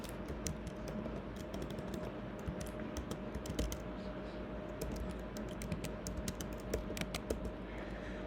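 Steady typing on a computer keyboard, with quick irregular keystrokes that carry on for several seconds at a soft, even level with no talk.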